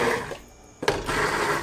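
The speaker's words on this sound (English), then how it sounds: "it's best to put the blender straight down directly on the bottom of the pot" A KitchenAid two-speed hand blender whirs in a shallow pot of soup, its motor running loudly, cutting out briefly, then starting up again with a sharp surge.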